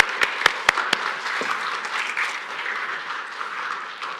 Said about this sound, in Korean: 다시 한번 크게 박수로 이분들을 격려해 주셨으면